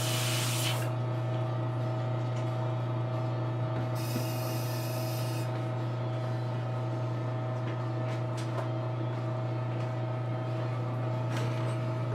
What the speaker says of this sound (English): let me get my airbrush clean now, because this varnish stuff will clog your brush fast